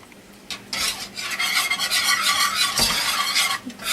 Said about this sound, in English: Gonna keep on stirring it.